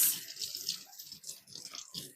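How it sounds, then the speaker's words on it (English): Goat milking inflation liner parts being rinsed with water, a soft splashing and trickling in short bursts, quiet and close. "Rinse."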